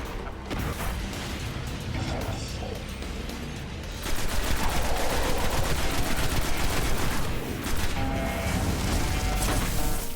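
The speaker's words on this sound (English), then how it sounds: "That was a waste of a grenade throw there." Dense, continuous gunfire and explosive bursts from a Destiny game battle, including a thrown grenade, loud and sustained throughout with rapid rattling shots growing more intense midway, no voices.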